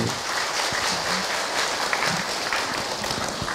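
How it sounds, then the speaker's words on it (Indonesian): Applause from an audience at an Islamic religious talk, a steady wash of many hands clapping that carries on for a few seconds with no speech over it. "Tepuk tangan untuk beliau."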